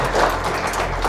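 Applause for a teacher at a student felicitation ceremony, a short burst of clapping from a crowd over a low hum, fairly loud and continuous for about a second.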